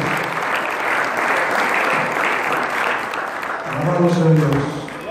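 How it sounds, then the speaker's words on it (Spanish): Church congregation applauding during a worship service, a steady dense wash of clapping that holds for several seconds, with a voice rising over it near the end. "Denle un aplauso al Señor."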